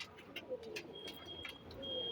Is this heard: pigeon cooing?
yes